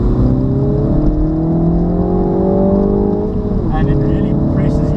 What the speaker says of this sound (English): once you lift off, you can hear that nice gurgling sound